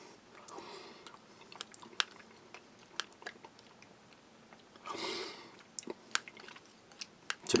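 Crunchy chewing of a Dutch army 24-hour combat ration, seven years out of date, sprinkled with Korean spice: close, irregular bites and crunches with soft mouth sounds between them, no talk.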